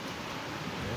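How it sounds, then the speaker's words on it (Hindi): Heavy rain pouring steadily outdoors, a dense continuous hiss of drops with no voices. "तो भाई काफ़ी तेज़ हो चुकी है बारिश"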